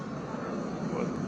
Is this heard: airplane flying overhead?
yes